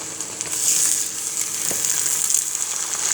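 An egg fries in butter in a pan over turned-down heat for a spicy noodle dish, giving a steady, close hiss of sizzling with faint crackles throughout and no talking.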